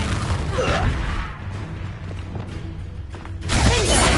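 Confringo and Incendio spells burst in Hogwarts Legacy, a loud whooshing blast at the start, a quieter rumbling lull, then another booming eruption close up at the end.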